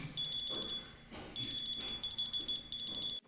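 Motorola moto buds+ earbud sounding its locating alert at maximum volume, a loud repeating series of shrill electronic beeps in rapid bursts with short gaps.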